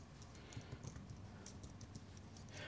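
Quiet, rapid keystrokes on a computer keyboard during photo-editing work, tapped in short irregular bursts with brief pauses between, close by and fairly soft.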